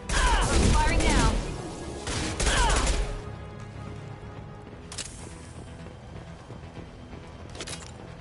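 Bursts of rapid gunfire in the video game Mass Effect 2, two loud dense volleys in the first few seconds, then quieter scattered shots and ambient game noise, with faint voices in the background.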